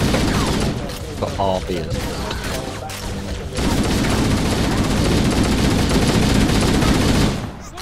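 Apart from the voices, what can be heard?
machine gun firing in the video game Halo: Combat Evolved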